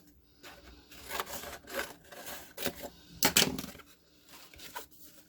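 Scissors trim the extra part off a folded paper hat, making several faint, quiet snips and rustles spaced out over a few seconds, with no talking.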